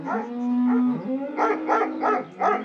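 Cartoon cows on a farm lowing, one long drawn-out moo followed by several shorter rhythmic moos, clear and fairly close with no talk over them.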